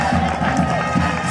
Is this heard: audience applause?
yes